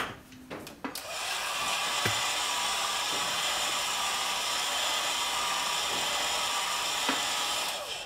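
Heat treating a nylon pottery cut-off wire with a heat gun produces a steady rushing blower noise, preceded by a few sharp clicks and handling sounds at the start, with faint taps scattered throughout.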